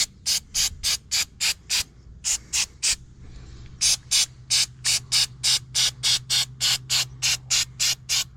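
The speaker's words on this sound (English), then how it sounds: "I think I'm gonna throw a little rubberized undercoating up in here too." 3M rubberized undercoating sprays from an aerosol can onto a snow cone trailer's suspension in short, loud hissing bursts, several quick squirts in a row, a brief pause, then another rhythmic run of bursts close by.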